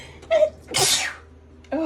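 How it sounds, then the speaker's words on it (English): A single loud, close human sneeze, a sharp burst with a short intake of breath before it and a brief vocal sound after, in a quiet room while sewing a quilt. "Oh my gosh, I'm gonna sneeze."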